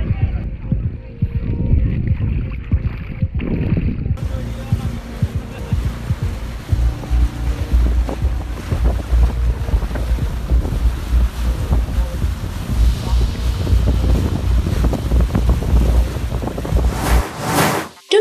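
A motorboat or speedboat crossing flood water during a relief effort, its steady engine roar mixed with heavy wind buffeting and water rush throughout, loud and close, with a voice briefly at the start.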